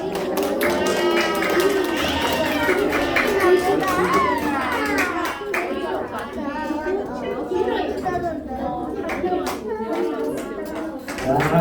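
Children at a Sunday children's worship service clap along, a lively stretch of patter from many small hands mixed with excited kids' voices and chatter, some lively sing-song talk riding over the clapping.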